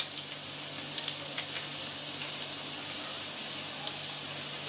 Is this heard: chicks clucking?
no